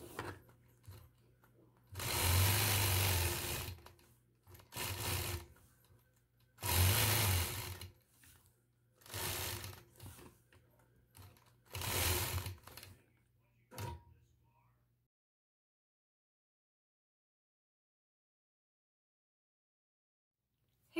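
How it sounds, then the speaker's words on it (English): A sewing machine quilting a geometric heart block runs in several bursts of rapid stitching, each a few seconds long and separated by short pauses, with a quiet voice between runs before the sound stops entirely. "After I've completed the machine quilting, I'll spritz away those marked lines, stitch in the ditch"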